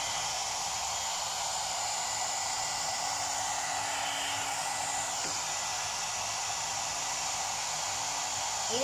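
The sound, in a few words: One Step Hair Dryer and Styler running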